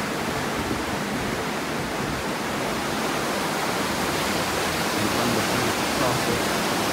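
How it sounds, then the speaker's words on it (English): The Huron River flowing through Flat Rock, a steady broadband rush of moving water that stays even and continuous throughout, fairly near. "here is the Huron River flowing through Flat Rock"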